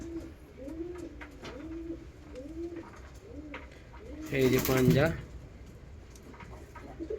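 Pigeons in a breeding loft coo in a steady repeating rhythm, close and moderately loud, while someone talks over them and a brief burst of wing flapping or scuffling breaks in partway through.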